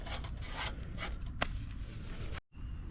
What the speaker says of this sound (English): just kind of clean off these mating surfaces a little bit so it doesn't go in there cockeyed